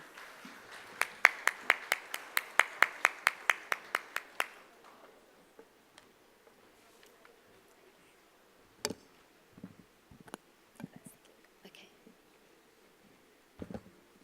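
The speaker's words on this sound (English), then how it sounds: "give a warm, warm round of applause to Ms. Bobbin" Audience at an Outlook RT Summit event claps to welcome a speaker, a sharp, evenly paced run of claps for about four seconds that stops abruptly, followed by quiet room tone and a few scattered knocks.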